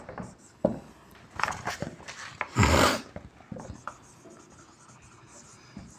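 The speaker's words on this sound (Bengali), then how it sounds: "আমি হিলারি থেকে লিখতে শুরু করব। কি লিখব," A pen scratches across paper in short, close strokes with pauses between them, including one longer, louder scribble near the middle, the writing done by hand as a schoolwork activity.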